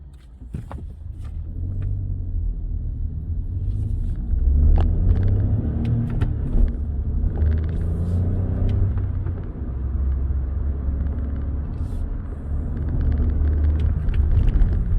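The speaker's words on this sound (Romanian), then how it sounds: "În momentul în care apăsăm ambreiajul se va reporni motorizarea." A Hyundai Bayon engine rumbles back to life as the clutch is pressed and the car pulls away, a steady low drone with a few clicks and knocks over the motor noise.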